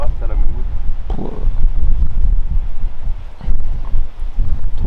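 Wind blows across a mountain in the Vosges, a steady loud rumble of gusts buffeting the microphone, with people talking faintly beneath it.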